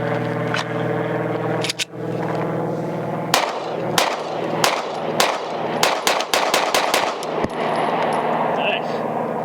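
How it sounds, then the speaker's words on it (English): Shots from a Sig Sauer P365 X Macro pistol at a range, a string of sharp, close cracks fired at a quick, uneven cadence over a constant background hum. "He's gonna get his first rounds through the new P365 X Macro."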